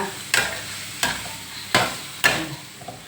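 Soft tofu and mixed vegetables stir-fried in a pan with a splash of water, four distinct scraping stirs at a steady pace over a low sizzle, close by with no speech.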